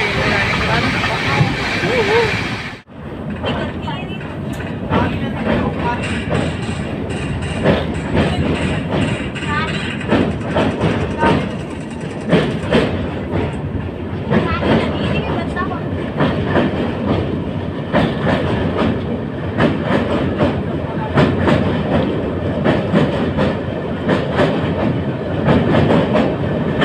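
Clickety-clack of a passenger train riding on rails continues loudly and steadily throughout, with a sudden shift near the start and people talking over the rumble.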